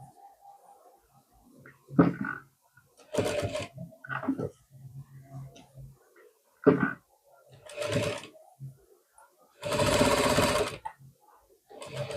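A sewing machine stitches the curved back neck of a blouse in several separate bursts of running, the longest near the end, with quiet pauses between runs where the fabric is repositioned.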